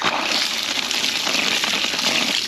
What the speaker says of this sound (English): We've got water.